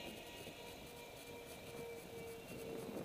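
Twin 70mm electric ducted fan model jet flying at about half throttle, a steady faint whine with a thin high tone holding over soft outdoor background noise, no talk.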